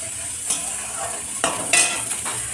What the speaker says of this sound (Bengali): আর দেখো রসুনগুলোকে ভাজছি